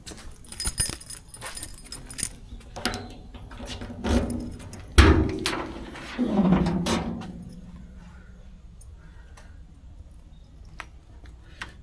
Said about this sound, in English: Let me grab these keys,